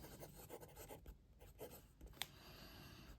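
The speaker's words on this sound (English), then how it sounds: "Time for a little writing sample now. We have the Romeo Mighty." Romeo Mighty fountain pen writing on paper: soft, close nib scratches and strokes in short irregular bursts, with one sharper tick partway through, on a quiet background.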